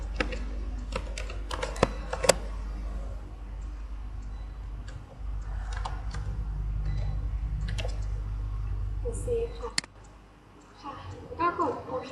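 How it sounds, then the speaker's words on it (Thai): A computer keyboard is typed on in sharp bursts of separate clicks, close and distinct, with mouse clicks in between, over a low steady hum. Someone talks over it now and then. "ในที่นี้เราจะต้องการ Union ก็ให้พิมพ์ว่า Polygon Union ค่ะ"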